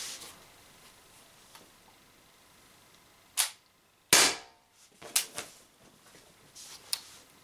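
An Umarex HDR68 air revolver fired with DK Spencer slugs, giving sharp close pops, one clear strong shot plus a few smaller clicks and knocks against a quiet background.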